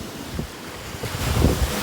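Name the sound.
waves breaking on the shore at Petoskey, Michigan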